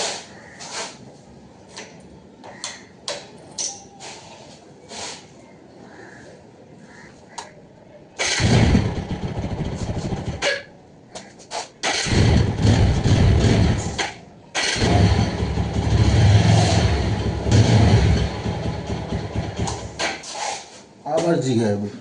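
A TVS Apache 4V motorcycle, left standing for three months, is cranked with several short attempts before the engine catches and runs in loud, rough bursts nearby, while someone talks over it.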